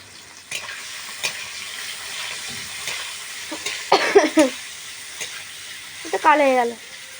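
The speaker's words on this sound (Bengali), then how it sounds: "পনিরগুলো ওই কড়াই তেল দিয়ে ভেজে নিচ্ছি ভালোভাবে দুপিট ভাজতে থাকবো" Paneer cubes frying in oil in a kadai, a steady close sizzle with stirring scrapes, swelling into two louder bursts of bubbling as pieces are turned, with no one speaking.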